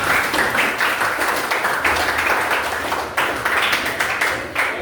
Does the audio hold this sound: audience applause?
yes